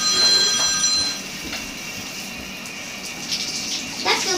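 Tap water running to rinse an American bully dog in a bath, a soft steady splashing and trickling stream with a few louder gushes, fairly faint and close.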